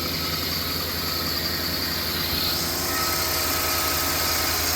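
A 2009 Dodge Ram 1500 with the 5.7 Hemi V8 idles after a cold start, a steady low rumble with a constant whine, close and unbroken, with no talking.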